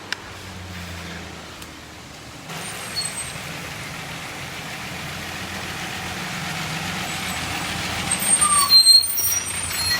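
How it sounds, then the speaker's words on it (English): A big truck passes on the road with its engine rumble building steadily, then sharp air-brake hisses near the end. The sound is fairly loud and heard alone, with no talking. "big truck, big truck."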